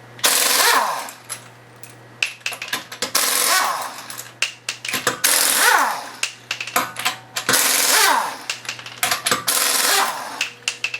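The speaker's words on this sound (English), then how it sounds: "it's going to take 19mm socket to take these lug nuts off, so we're going to go ahead and take these off" An impact wrench zips rear-wheel lug nuts off a car with a 19mm socket during a rear disc brake pad change, sounding in four loud rattling bursts of about a second each, with clinks and clatter between them.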